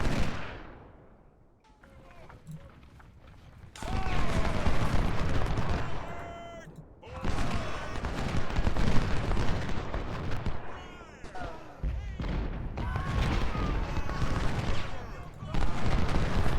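Grape shot artillery volleys in Ultimate General: Civil War, a rolling roar of cannon and musket fire that comes in long, loud waves, with a player talking over the battle.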